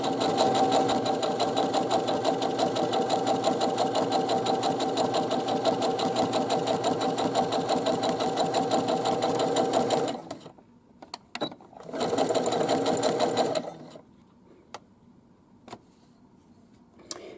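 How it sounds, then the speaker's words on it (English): A sewing machine stitches a centre-back seam on shorts: a steady, fast needle chatter runs for about ten seconds, stops, then a short burst follows before quiet handling sounds. "I got so involved in sewing there I forgot to start talking again."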